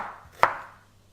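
A single knife chop on a cutting board, cutting a vegetable for a blended soup in a home kitchen, one crisp close thud heard alone over a soft background hum.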